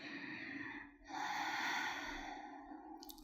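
Slow, deep breaths during the Navasana boat pose in an Ashtanga yoga session, a soft exhale giving way to a longer, fuller airy breath, close and quiet with no talking.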